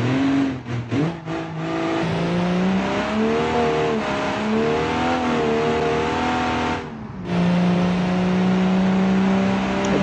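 1947 car simulated in BeamNG accelerating hard, with a loud engine note climbing through gears, brief gaps at shifts, and tire squeal alongside.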